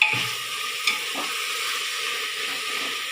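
Tomato and green chillies frying in a pan for a beef curry give a steady, loud sizzle with a brief clatter near the start, continuing evenly throughout.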